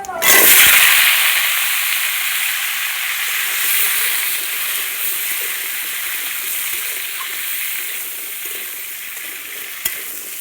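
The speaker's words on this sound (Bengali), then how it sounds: "এবারে সমস্ত সবজি ভালো করে ভেজে নেব।" Chopped vegetables fry in a hot pan with a loud, steady sizzle and steamy hiss that bursts in at the start and holds continuously, with faint stirring scrapes underneath.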